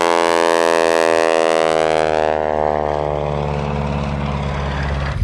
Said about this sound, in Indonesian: Widih, lihat, ada juga kapal terbang.